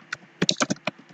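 Typing a file name on a computer keyboard, with a quick irregular run of about seven or eight crisp, close key clicks and short pauses between them, no talking.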